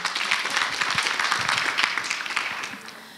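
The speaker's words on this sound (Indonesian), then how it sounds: "Tepuk tangan dulu dong teman-teman semuanya." A seminar audience at an international relations careers session gives a dense, steady round of applause, many hands clapping close together and fading slightly at the end.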